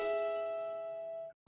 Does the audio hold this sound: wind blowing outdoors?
no